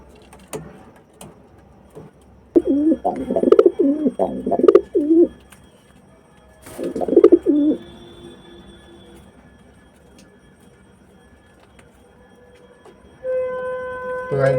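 A pigeon coos close by in two bursts of soft, throaty rolling calls, separated by near silence, with a few faint tonal beeps toward the end.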